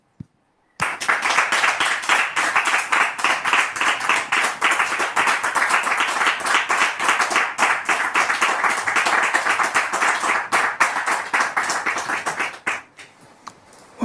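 An audience applauds to welcome a guest, Brother Elvis, at a Christian gathering, with dense sustained clapping for about twelve seconds before it stops abruptly, leaving near silence.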